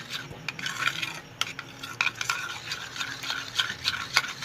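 Ketchup and mayonnaise mixed together by hand, with a spoon scraping and clinking around a bowl in a steady, repeated rhythm, close and moderately loud with no voices.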